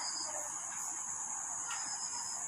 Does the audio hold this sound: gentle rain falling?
no